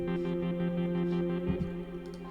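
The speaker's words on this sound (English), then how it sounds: "we've got some synths happening" A subtle synth layer sits in a music track with reverb and effects, playing sustained, chord-like tones that hold steadily at moderate volume with slight wavering and a brief swell partway through.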